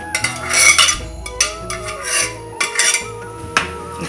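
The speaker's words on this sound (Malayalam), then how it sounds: "ഇതിലേക്ക് നമ്മൾക്ക് ഈ പയർ വേവിച്ചതിനെ ഇട്ട് കൊടുക്കാം." Cooked green gram going into a pot of rice porridge for Karkidaka kanji, with scraping and clinking of a spoon against metal in several short bursts, close up and no talking.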